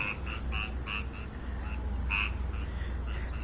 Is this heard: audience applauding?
no